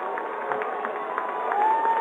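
A football crowd at West Chester cheers from a distance in a steady, murmuring roar with brief claps and shouts, swelling slightly toward the end.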